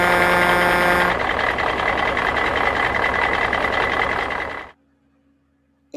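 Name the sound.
truck engine and reversing beeps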